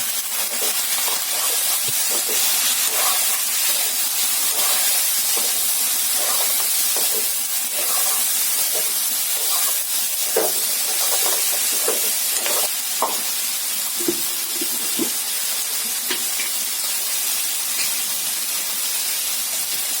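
Pork fries with onions, chillies and turmeric in a pan, a continuous loud hiss and sizzle with intermittent stirring scrapes and clicks, no voices.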